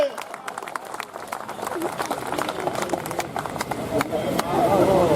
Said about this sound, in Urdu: ہمیں تالیوں میں اور جان لگائیے